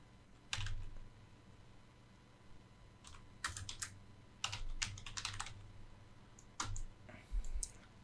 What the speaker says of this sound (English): Let me write associate producer.